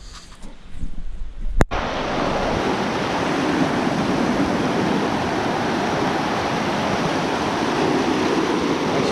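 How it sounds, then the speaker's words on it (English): A river flowing in Colombia: after a brief burst of handling noise, a steady loud rush of water fills the scene continuously and unchanging, close by with no voices. "We gotta go across the river."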